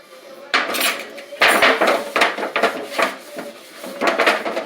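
A metal baking sheet is picked up and handled, giving repeated close, bright clattering and scraping bursts in uneven rhythm, with no talking.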